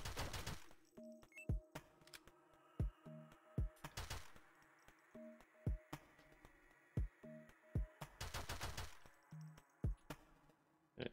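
Gunshots from a gun in the video game Spooky Station, sharp isolated cracks and short clustered bursts spaced irregularly at moderate loudness, alone with soft in-game tones between them.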